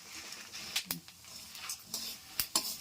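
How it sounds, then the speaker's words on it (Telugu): Fenugreek seeds and spices sputter in hot oil with a soft, steady frying hiss, broken by a few sharp pops and a light scrape of a utensil against the pan, with no talking. "చూసారా, అన్నీ చిట్పట్లాడుతున్నాయి. మెంతులు అవన్నీ బాగా వేగిపోయాయి."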